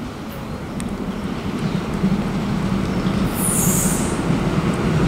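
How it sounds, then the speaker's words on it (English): A Northern Ireland Railways diesel train service from Bangor to Portadown arrives at Lisburn station, its loud rumbling roll building steadily while high wheel-flange squeals ring out near the end, with no talk. "approaching now is going to be the 1332 Northern Ireland Railway service to Portadown from Bangor"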